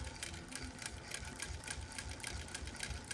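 A sewing machine runs steadily, stitching binding onto a quilt with a continuous, fairly quiet mechanical whir and rapid needle clatter throughout.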